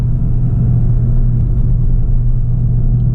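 A 2022 Volkswagen Golf GTI Clubsport MK8 pulls hard up a hill road, its engine a loud, deep, steady rumble heard from inside the cabin, with no voices over it.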